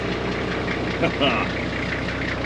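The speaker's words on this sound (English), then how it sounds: "glow plugs sorted out that running rough at idle" A diesel engine idling evenly after its glow plugs were repaired, a steady low rhythmic chug close by, with a brief voice or click partway through.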